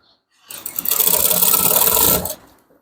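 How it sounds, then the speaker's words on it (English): A sewing machine stitching along a seam of a men's Ankara fabric top, running loud and close in one continuous rapid whirring burst of about two seconds after a short silence. "So stitch all along this line."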